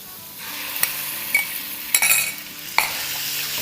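Chicken hits hot garlic-infused oil in a pan and sizzles steadily, with several sharp clinks and scrapes of a utensil stirring against the pan, close up and without talk.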